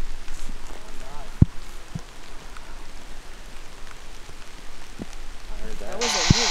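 Steady rain patters through dark woods at night, a constant diffuse hiss with a few sharper knocks and rustles nearby, and a person speaking over it.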